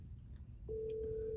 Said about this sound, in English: Now we got like a phone call at the end here